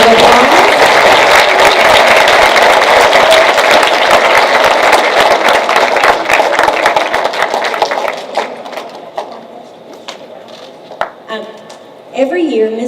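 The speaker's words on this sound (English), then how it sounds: "Would you please give her a big North Nation round of applause?" Students in a school building applaud a visiting Kentucky state official, a dense wash of clapping and crowd noise for about eight seconds that thins to scattered claps and chatter, with voices rising again near the end.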